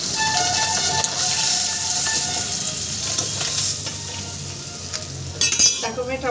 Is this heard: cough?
no